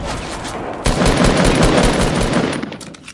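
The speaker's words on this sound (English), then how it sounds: "If y'all gonna shoot me out of the sky, at least hit your shots." Rapid gunfire in a video game, a dense continuous burst of loud shots aimed at the player, close and sustained for a few seconds with no talk over it.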